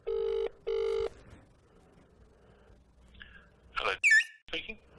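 An outgoing cold call rings twice on a telephone line, two clear tone bursts. After a pause the line crackles and chirps as it connects, and a voice comes through.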